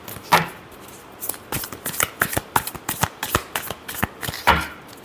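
Tarot cards are shuffled close by in quick, papery bursts. Irregular flicks and slaps come in a fast run for several seconds, with a few louder snaps.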